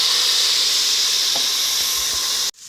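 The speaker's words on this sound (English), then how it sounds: "peppers are starting to saute nicely as well now" Peppers sauté in a hot pan after a splash of water, giving a loud, steady sizzling hiss up close that continues evenly, with a faint tap of a utensil before it cuts off abruptly.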